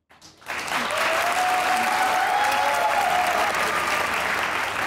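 Sustained audience applause at a televised game show, loud and dense, rising quickly after a short quiet start and holding steady throughout, with faint voices mixed in.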